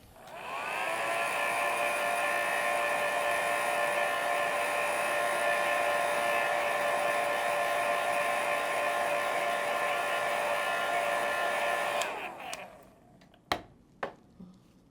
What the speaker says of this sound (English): I'm gonna give this a little bit of a blow dry because it still seems really wet